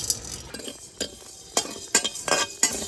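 Whole cumin, coriander seeds, fennel and peppercorns dry-roasting in a wok: a string of sharp scrapes and clinks from a spoon stirring the spices, spaced about every half second over a faint crackle, with no voices.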